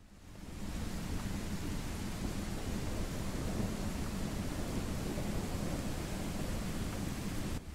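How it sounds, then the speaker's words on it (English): Steady, dense thunderstorm rain in the survival game Mist Survival hisses continuously for several seconds at an even level. No distinct thunder crack stands out and no voices are heard. "The mist doesn't come out. The rain does."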